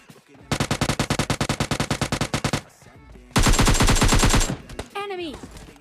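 Rapid automatic gunfire in PUBG Lite, two long bursts, loud and close, with a short gap between them and a brief electronic chirp at the end.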